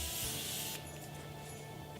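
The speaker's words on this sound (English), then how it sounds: "We're gonna go ahead and spray my face again." Makeup setting spray misted onto a face, a close, steady hissing burst that cuts off partway, followed by a quieter room tone with a faint residual hiss.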